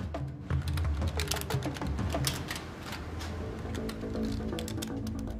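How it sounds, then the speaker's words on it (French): Rapid, continuous clatter of fingers hammering a computer keyboard at full speed, dense overlapping clicks over a low steady background hum, fairly close and without speech. "ils tapent sur leur clavier à toute vitesse"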